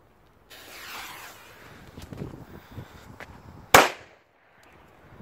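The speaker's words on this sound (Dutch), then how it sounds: "Het zijn wel echt goede knalletjes dit." Klasek Pirat firecracker with fuse: faint hissing and crackle, then one loud sharp bang that echoes and dies away outdoors, with no speech over it.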